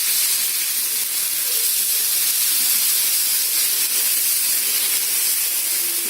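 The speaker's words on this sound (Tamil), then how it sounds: "இப்போ அடை மாவை போடுறோம்." Adai, a mixed-lentil dosa batter, sizzles loudly and steadily on a hot iron griddle, a continuous bright hiss with no pauses and no talking.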